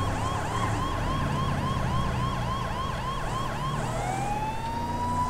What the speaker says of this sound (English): It's slowing down for vehicles that have stopped put on the side of the road for my fucking sirens.